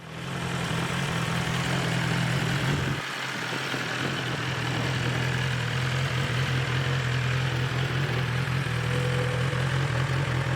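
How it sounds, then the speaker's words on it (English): A new-generation BMW S1000R four-cylinder motorcycle engine idles steadily and smoothly, a low even hum with a brief dip in the rumble early on. "It still sounds really nice for a four-cylinder engine, but seems to run more smoothly"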